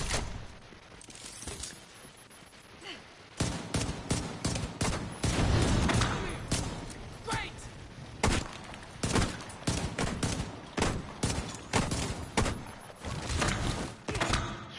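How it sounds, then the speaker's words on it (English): Loud bursts of automatic gunfire from The Division 2 played on PS5, rapid clusters of close, punchy shots with brief pauses between volleys and occasional heavier thuds. "this guy wouldn't have lived past all these shots I've taken on him"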